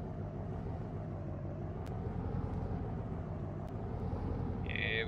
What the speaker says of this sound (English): Let's back this truck up in here too.